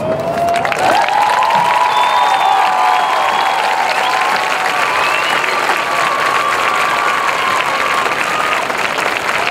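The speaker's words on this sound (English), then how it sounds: "Please stand and be recognized with a round of applause." A graduation ceremony audience gives a sustained round of applause, with dense, loud clapping from a large crowd filling the room for several seconds, plus a few faint whistles or cheers over it.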